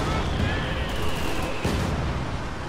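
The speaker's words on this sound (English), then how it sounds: "Katyusha firing." Katyusha rocket artillery fires in a video game battle, a dense, continuous roar of launches and booms filling the whole moment, with a voice talking over the barrage.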